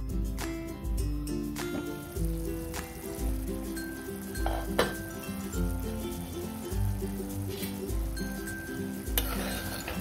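Green pea curry in a green masala simmers in a pan on a medium-low flame, giving a steady, soft sizzle and bubbling for the whole stretch, with faint utensil clinks and a low tonal hum underneath.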